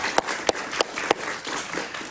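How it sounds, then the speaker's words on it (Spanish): Studio audience applause on a Spanish-language television talk show, brisk clapping with a few sharp, regular loud claps standing out near the microphone over a steady wash of hands. "Un aplauso para Luis Zelaya."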